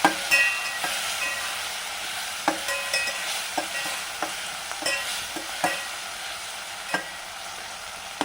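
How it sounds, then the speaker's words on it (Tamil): Masala for Chennai-style vatha kara kulambu sautés in a pan with a steady close frying sizzle, broken by regular clicks and scrapes of a spoon stirring it. "நீங்கள் நல்லா வதக்கிடுங்க அப்படியே மைய."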